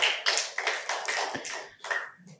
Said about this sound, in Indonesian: Berikan tepuk tangan bagi Tuhan kita, saudara.